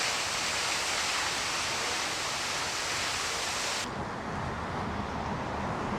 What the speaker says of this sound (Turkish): Ve arkada muhteşem şelalemiz.